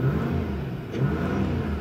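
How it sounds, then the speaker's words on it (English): A 2005 Subaru Legacy Outback 3.0 H6 engine hums steadily at close range, rising slightly in two brief revving surges, with no talking. "Revs up nicely, it idles smoothly"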